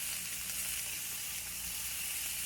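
Frozen bacon cut in half simmering and sizzling in water in a pan on a stovetop, a steady hiss and bubble with no voices, lasting throughout.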